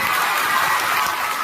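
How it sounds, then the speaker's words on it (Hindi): Audience at a coaching institute's annual function applauding and cheering together, a dense, steady roar of clapping heard close for the whole moment. "सर के लिए एक बार जोरदार ताली बजाइए"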